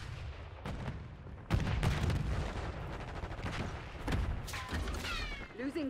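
Gunfire in an online multiplayer shooter, scattered loud bursts and single shots at varying distances with a busy mix of game effects, while a player talks over the action.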